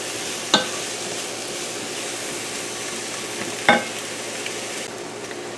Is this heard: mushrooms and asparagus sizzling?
yes